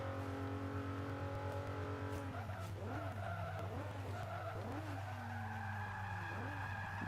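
A car brakes hard on a track in Forza Motorsport 5, with steady engine drone and repeated tire squeals and skids rising and falling across the middle of the clip, loud and close, without talk.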